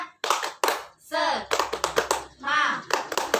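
A group, including children, claps hands in quick rhythmic bursts during a classroom chant, crisp sharp claps alternating with chanted voices close to the microphone.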